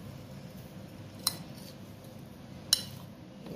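A spoon mixes mustard powder, ajwain powder and kalonji for a green chilli and radish pickle, giving two brief, bright metallic clinks against a bowl over a quiet background hum.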